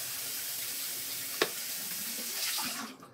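Water streams steadily from a tap to rinse a hamster wheel, a close, continuous hiss with a short sharp knock partway through before the flow cuts off.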